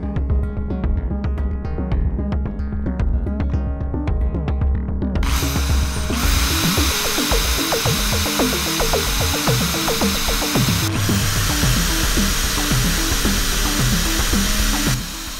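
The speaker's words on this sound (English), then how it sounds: "After drilling narrow holes for the screws, I used a larger bit to drill just a little bit into the box" A power drill bores holes into the wooden side of a box, a continuous whirring motor that steps up into a louder, harsher grinding bite as the bit enters the wood, running steadily alone throughout.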